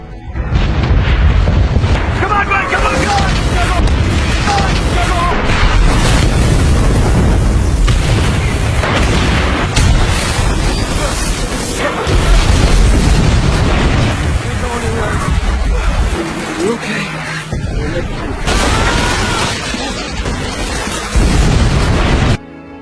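Bombs dropped by Japanese troops in a midnight air raid in a World War II film explode in a loud, nearly continuous barrage of deep booms and bursts, with narration running over it.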